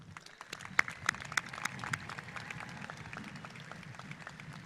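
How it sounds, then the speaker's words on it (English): An audience at a 2018 high school graduation ceremony gives the graduates a short round of applause, with scattered sharper claps over a steady, moderately distant patter. "Audience, can we give our graduates another quick round of applause, please?"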